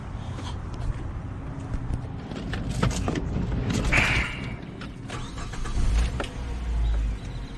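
A Mazda5 running a Megasquirt 3 setup cranks and fires up, with mechanical clicks and starter whir building into a rough engine rumble, close and moderately loud, no talk.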